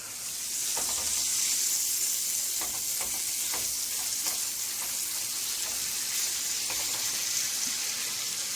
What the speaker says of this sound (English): You see the chicken broth is boiling.